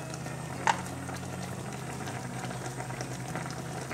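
Canned mackerel and radish simmering in a spicy braising sauce in a pot, a steady low bubbling and boiling hiss with one small clink near the start.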